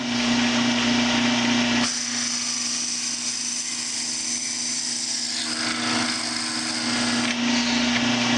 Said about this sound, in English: I'm going to part it off